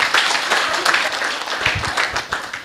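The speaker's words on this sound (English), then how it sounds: "Can we give them applause of hand clap?" An audience at a regional community dialogue claps for a panel and moderator, a dense, lively burst of applause with some voices mixed in underneath.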